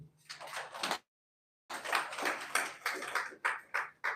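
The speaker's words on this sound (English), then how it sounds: "Let's clap for them." An audience claps together in dense bursts of applause, a short round that stops for a moment and then resumes louder with ragged, uneven claps, close and moderately loud with no talking.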